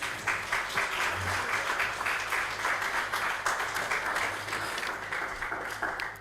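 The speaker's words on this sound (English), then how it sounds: "I thought that with such a powerful presentation, you would give a much louder round of applause." Steady applause from an audience at a university innovation festival, continuous clapping at moderate volume throughout with no speech.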